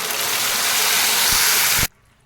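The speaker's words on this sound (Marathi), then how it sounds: "आता याच्यामध्ये आपण ही शिजवलेली डाळ घालतो" A loud rushing, hissing burst as cooked red lentils are poured into hot spiced oil, lasting under two seconds and then cutting off abruptly to near silence.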